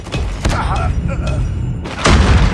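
A grenade goes off in a first-person shooter, giving a sharp, loud boom at the end amid gunfire thumps and shouted in-game voice callouts.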